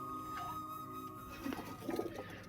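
Pigeons kept indoors on a rainy day coo softly in a few low, rounded bursts over a steady background hum, close by and fairly quiet.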